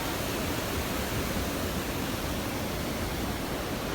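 Mountain stream in snowy Manali, flowing water rushing steadily as a dense, even broadband roar that stays close and constant throughout, with no voices.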